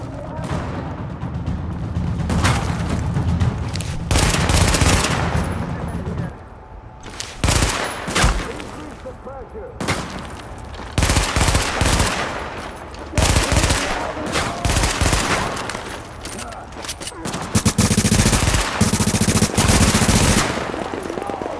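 Sustained turret machine-gun fire in The Division at the Hudson Refugee Camp, long rattling bursts broken by short pauses, loud and close, with faint talk underneath.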